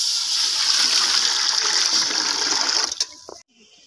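About two litres of water gush steadily into a pan to make sugar syrup for gulab jamun, a loud, continuous pour that cuts off abruptly after roughly three seconds.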